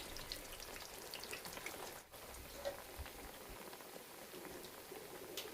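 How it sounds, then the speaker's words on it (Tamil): Chakkaram sweet and leaf-shaped snacks deep frying in hot oil over a medium flame, a steady dense crackling sizzle throughout, with a brief dip in the bubbling partway through. "நம்ம செஞ்சு வச்சுருக்க சக்கரம் இந்த லீஃப் ரெண்டையுமே எண்ணெயில் போட்டு பொரித்து எடுக்கிறோம்."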